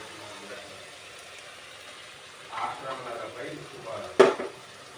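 Dal is tipped into potatoes frying in oil for khichdi. A faint sizzle and stirring build toward a sharp close clatter near the end, over a low background hum, with a voice talking.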